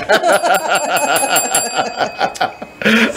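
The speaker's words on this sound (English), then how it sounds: "Hit the bell on that one." A rapid, ringing bell sound effect on a radio show, rattling continuously, bright and close, with a short burst of chuckling toward the end.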